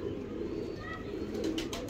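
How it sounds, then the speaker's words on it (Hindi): Branded Salara pigeons, desi breeding birds, cooing steadily nearby, soft throaty coos over a constant background hum, with no talking. "साखी भाई वाले माशाल्लाह ब्रांडेड कबूतर जनाब"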